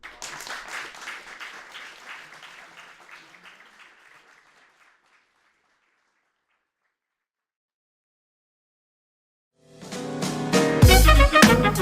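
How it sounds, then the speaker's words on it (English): An audience claps after a talk: the applause fades out into silence, then a loud new round of clapping bursts in near the end. "applause"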